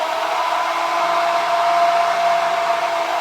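A Princess House immersion blender whirs steadily while mixing ranch dressing, a loud close continuous motor drone with a faint hum, no talking.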